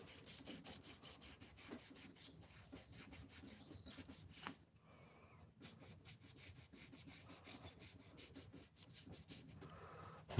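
Sandpaper at 340 grit rubs steadily against a wooden pen spinning on a lathe, a close, continuous rasping with regular rhythmic pulses, briefly easing off midway before resuming.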